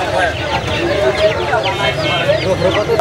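Chickens at a pet animal market in Khulna, with scattered clucks and short calls over a busy, noisy crowd, close by and fairly loud while people talk nearby.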